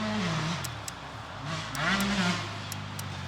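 A Beta 450 RX motorcycle ridden outdoors, its engine droning and rising and falling in pitch as it revs and pulls away at a middle distance, with a steady wash of outdoor noise throughout.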